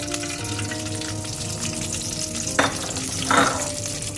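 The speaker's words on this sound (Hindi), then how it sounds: "हम इसकी अच्छी तरह से बुनाई करेंगे सूजी की।" Semolina roasting in melted desi ghee in a pan, a continuous close sizzle with stirring, and two louder scraping strokes of the spoon near the end, with no voices.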